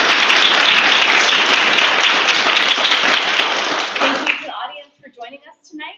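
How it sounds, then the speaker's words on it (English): A loud, dense round of applause from an audience at a public talk on voting rights, holding steady for about four seconds before thinning into a few scattered claps and fading out. "I'm going to give another round of applause."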